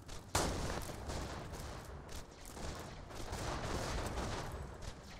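Gunfire from a shotgun in the video game Borderlands 2: one sharp blast opens the clip, then dense, continuous shooting and impacts rumble on at a steady, loud level with no talking.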